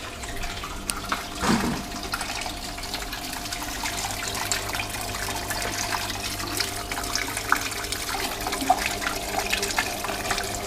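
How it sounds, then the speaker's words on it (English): Water runs steadily down an empty DIY hydroponic garden tower, a continuous close splashing and trickling stream with no talk. "Obviously there's no plants in this, so the water does run quite aggressively down"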